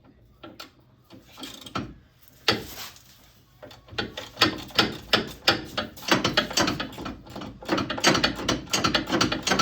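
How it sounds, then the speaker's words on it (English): A 13 mm ratchet clicks steadily while backing out a bolt on a SeaDoo 130/155 GTI jet pump, the rhythmic pawl clicks loud and close, growing denser and continuing without pause. "you're gonna put that 13 mil in, and then you're gonna start to unscrew that bolt"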